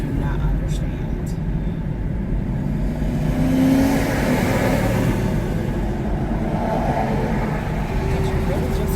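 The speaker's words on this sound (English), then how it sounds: "my car is really acting up right now" A car engine running rough while driving in rainy weather makes a continuous low drone throughout, with a voice talking over it.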